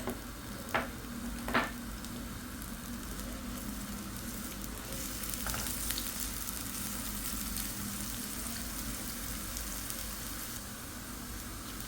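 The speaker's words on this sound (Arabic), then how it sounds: "ملعقتين دهن، اضيف البصل" Chopped onion sizzles steadily in two spoons of hot fat in a pan while making lentil soup, a constant close frying hiss with a couple of sharp clinks early on and no talking.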